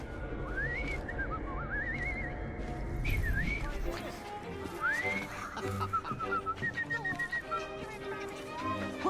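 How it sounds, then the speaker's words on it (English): A character in Assassin's Creed Syndicate whistles a wavering, sliding tune in short phrases over busy street ambience, with game voices speaking. "I've just learned to whistle."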